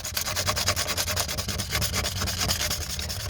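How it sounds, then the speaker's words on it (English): Light hand sanding around a crack in a fibreglass bathtub, a steady rhythmic scratchy rubbing of quick back-and-forth strokes, close and continuous with no talk. "and then you're gonna just lightly sand over it"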